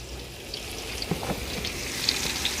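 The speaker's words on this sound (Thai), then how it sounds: "นี่ครับเราก็จะเจียวกระเทียมนะครับ ให้ส่งกลิ่นหอมหอมหอมก่อนเลยจ้า" Pounded Thai garlic, about 40 grams, frying in a pan with a soft, steady sizzle and occasional faint pops and crackles, fairly quiet and uninterrupted by talk.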